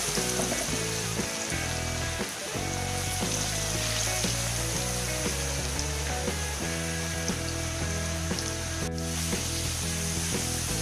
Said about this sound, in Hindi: देखिए कितने अच्छे फ्राई हो रहे हैं